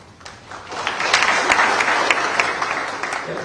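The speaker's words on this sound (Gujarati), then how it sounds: "હજુ પહેલા દિવસે જોતી તાલીઓ તમારા માટે તો પાડો" Audience applause at a Gujarat state tax inspectors' appointment ceremony, steady clapping that swells after the first half second and holds fairly loud with scattered sharp claps, with no talk over it.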